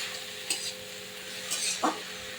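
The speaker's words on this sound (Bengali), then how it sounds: "পরিমাণ মতো হলুদ দিয়ে শাকের সঙ্গে সুন্দরভাবে আমি জড়িয়ে দেবো একদম, যাতে হলুদ লবণ শাকে মিশে যায়।" Water spinach is stirred with turmeric and salt in a pan over a low steady sizzle, with two or three distinct scraping strokes of a spatula against the metal, close and alone.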